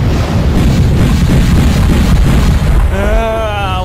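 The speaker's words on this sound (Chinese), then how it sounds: "船长下令了，开炮！" Cannon fire in the animated series LaLaLaDemacia: a loud, sustained broadband booming rumble that fills the clip, with a brief tonal, voice-like sound rising near the end.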